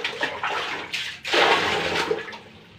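Water sloshing and gurgling in a clogged toilet bowl that drains poorly, a close, irregular swirl with a louder surge midway and no talking.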